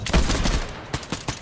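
Video game gunfire rattles out in a short, loud burst of rapid shots, followed by a few scattered individual bangs.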